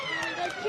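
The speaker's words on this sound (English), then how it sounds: "That's the siren." A football ground siren sounding at three-quarter time in a country league grand final, a loud, steady wailing tone held throughout a brief moment with crowd noise beneath.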